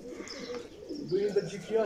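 Racing pigeons cooing close by on a rooftop in short soft phrases, with faint chirps and background noise around them.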